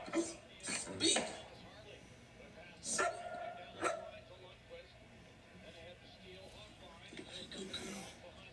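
A dog barks on command during trick training, giving a few sharp, separate barks early on and more a bit later, with a person talking and giving cues between them.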